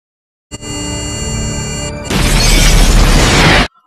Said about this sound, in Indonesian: bom pun meledak menghancurkan rumah tersebut berkeping-keping